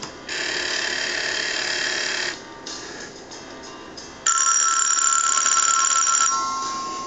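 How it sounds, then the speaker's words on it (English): A telephone rings with a bell driven by an Arduino through an H bridge, producing a bright, steady electronic trill in two long bursts separated by a brief quieter gap. "Would somebody pick up that goddamn phone?"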